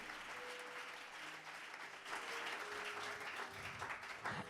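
A church congregation at a French-language evangelical service breaks into applause, a soft, distant wash of clapping that holds steadily and swells slightly toward the end.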